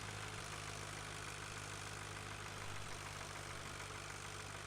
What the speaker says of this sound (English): Putting along here at 14 miles an hour. I guess we need a bigger tractor to haul these heavy cattle.